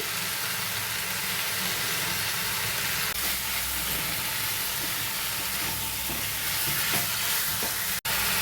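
Chicken sautés in a pan with salt, turmeric and red chili for egg chicken biryani, giving a steady, close hiss and sizzle throughout, with one sharp click near the end.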